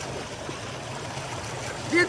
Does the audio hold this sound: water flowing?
yes